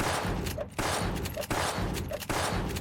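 Gunshots in the video game Gunz The Duel ring out in a quick repeating pattern, with three or four sharp bursts about a second apart and no talking over them.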